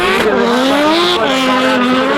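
A drift car at Rockingham Speedway during the 2017 British Drift Championship, thrown into the first corner with a loud sustained engine whine and shifting tire squeal as it slides, close and continuous.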